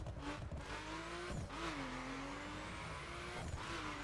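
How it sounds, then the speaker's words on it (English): A car in the racing game The Crew, apparently a RUF hypercar with a carbon hood and no spoiler, drifts with a steady engine note and repeated tire squeals, all loud and close. "Getting better at drifting now."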